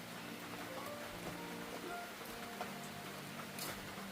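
Rain falls during cold weather, heard as a faint, steady patter that runs throughout with a few soft drips and rustles.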